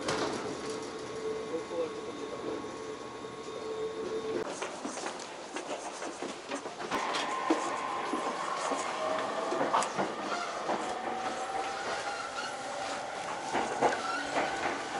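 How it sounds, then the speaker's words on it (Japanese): Former Keiyo Line commuter train carriage heard from inside while running, a steady broadband rumble with rail clatter and a shift in tone partway through, continuous throughout. "元京葉線の車両ですね。"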